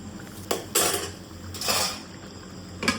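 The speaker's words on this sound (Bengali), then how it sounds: "আবারও নাড়িয়ে চাড়িয়ে সমস্ত কিছু মিশিয়ে নিয়েছি" A metal spoon scrapes and clinks against a cooking pot while a vegetarian matar paneer curry with ghee is stirred and mixed, giving a few sharp, close knocks spaced apart over a low kitchen background.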